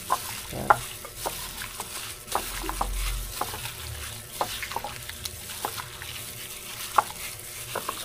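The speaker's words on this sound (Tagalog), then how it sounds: "haluin lang natin bago natin siya i-fried" Egg mixture stirred for a Mang Tomas recipe, with a spoon scraping and tapping in an irregular rhythm over a soft background sizzle. The sounds are close and moderately loud, and no one speaks.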